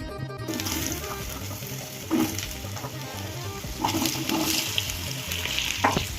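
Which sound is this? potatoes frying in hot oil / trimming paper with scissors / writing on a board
potatoes frying in hot oil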